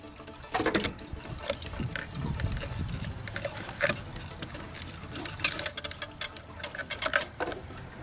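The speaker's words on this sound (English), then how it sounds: "Probably best to let the gas pour out of it." Gasoline pours and drips out of a removed fuel pump and sending unit from a 2013-2014 Subaru Outback, an irregular close splashing trickle with scattered clicks and taps from handling the part.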